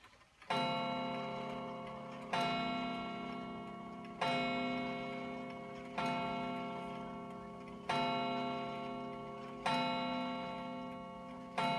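A Sessions mantel clock ticks steadily on its own, with a resonant, ringing strike roughly every two seconds that decays slowly before the next one, close and clear with no talking.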